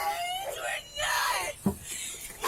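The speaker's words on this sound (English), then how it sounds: "stop crying like that" A woman cries and screams in distress on an emergency call recording, wailing and whimpering in uneven bursts that are faint and thin, with a brief sharp cry near the middle.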